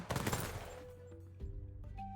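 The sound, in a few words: firework from firework seal in video game Temtem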